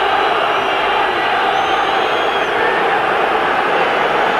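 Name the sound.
football crowd reacting in the stadium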